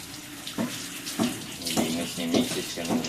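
Tap water runs steadily into a sink while parts of a window-type air conditioner are washed, with rhythmic splashes and knocks as the pieces are handled; a person talks over the flow.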